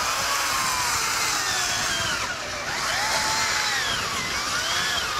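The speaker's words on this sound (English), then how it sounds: "No one's more excited about that chainsaw than Chastity Bird." Chainsaw carving an ice sculpture at a grand hotel, a continuous loud buzzing whine that rises and falls in pitch as the blade bites into the ice, steady and close with no talk.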